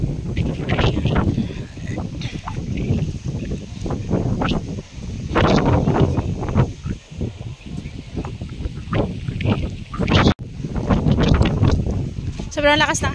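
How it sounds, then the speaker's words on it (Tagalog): Strong wind at the Taal Lake baywalk buffets the microphone in loud, gusty rumbles, with someone talking over it throughout. "Sobrang lakas ng hangin, guys."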